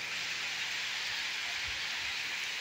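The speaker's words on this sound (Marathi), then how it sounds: "असा हा पाऊस पडतोय त्या पत्र्यावर." Heavy pre-monsoon rain drumming on a metal sheet roof, heard from under a lemon tree, as a dense, even hiss that holds steady throughout without pause.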